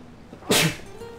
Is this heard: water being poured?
no